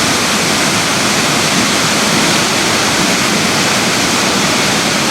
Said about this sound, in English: You get to see those falls, those cascades just above the Dijandi Falls.